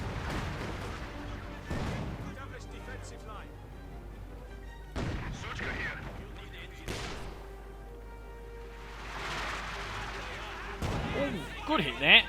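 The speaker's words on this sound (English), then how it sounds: "Rocket barrages going down there, battle group headquarters." Rocket barrages and artillery in the World War II strategy game Company of Heroes 2 land in a string of booming impacts and crashing explosions amid scattered gunfire, played at moderate loudness under continuous commentary.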